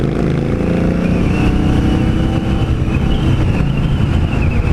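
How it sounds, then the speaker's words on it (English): A 2016 Indian Scout motorcycle pulls away under throttle, its engine a dense, steady roar with a gently rising pitch, heavy wind buffeting mixed in, loud and continuous throughout. "But yeah, this bike just wants to take off."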